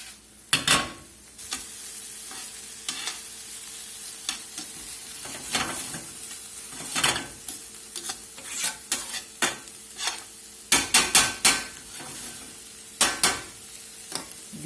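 Onions and peppers for a stuffed grilled baguette sizzle in a pan under a steady hiss. Repeated sharp clacks of stirring and utensils scrape against the pan.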